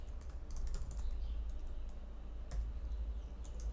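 Code is typed on a computer keyboard in quick, close-up bursts of soft clattering keystrokes with short pauses between, set against a low background hum.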